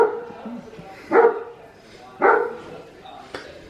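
A dog lets out two distinct barks about a second apart, fairly near, with quieter whines and shuffling sounds in between.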